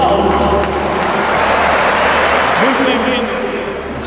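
A crowd claps in a dense, sustained wash of applause at an event honoring Dutch architect Stan Valckx, loud and continuous for several seconds before easing slightly at the end, with some voices mixed in.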